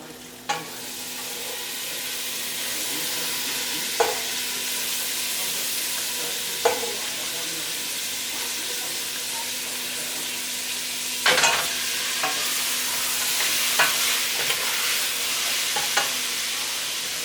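Taco meat and sausage frying in a pan for keto jambalaya, a steady close sizzle with occasional sharp scrapes and stirring clicks from a utensil against the pan.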